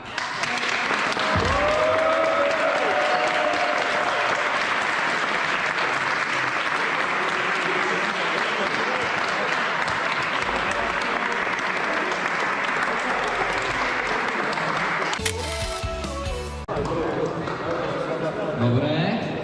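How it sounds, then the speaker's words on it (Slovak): Loud, sustained applause from an audience for a goalkeeper at a Christmas football tournament in Košice, dense clapping lasting many seconds, with a brief burst of cheering and a short break near the end. "poprosím veľký potlesk pre"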